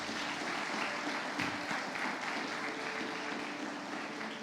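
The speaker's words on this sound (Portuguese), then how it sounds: "Aplauda Jesus por esses filhos." A church congregation applauds steadily for several seconds, a soft, even patter of many hands heard at a moderate distance, with no speech.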